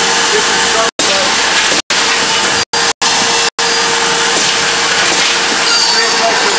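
A Ruvo 855 machine starting up and running, a loud steady mechanical roar close by, broken by a few abrupt brief cutouts before it continues evenly.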